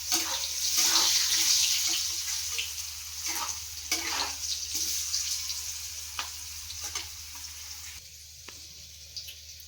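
Potatoes frying in hot oil in a kadai (wok), the oil seasoned with a little salt and turmeric: a loud, continuous sizzle with stirring scrapes and clatter throughout, easing off near the end.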